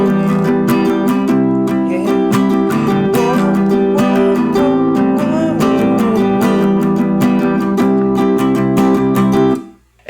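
The opening of a song is strummed on acoustic guitar in a steady, dense down-up rhythm of full ringing chords that continues loudly throughout before cutting off abruptly at the end.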